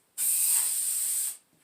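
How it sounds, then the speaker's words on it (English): A can of spray adhesive for a 2006 Chevy Impala headliner lets out one steady, close hiss lasting just over a second, then cuts off abruptly, with no talking. "Spray it at something that you don't care about."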